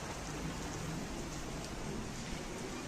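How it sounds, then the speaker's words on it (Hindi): Heavy rain falling in Kashmir, a dense, continuous hiss of downpour at steady loudness with no voices. "बारिश बहुत ज़्यादा हो रही है।"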